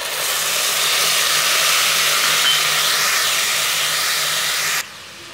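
A cup of water poured onto vermicelli that has been fried until reddish, giving a loud, steady hissing sizzle that cuts off abruptly near the end.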